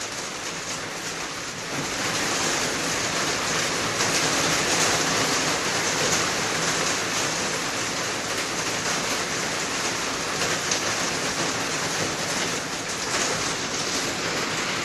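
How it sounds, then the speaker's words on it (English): Heavy rain pours down outside, a loud, even wash of hiss that holds steady throughout with no voices over it. "The rain is very heavy"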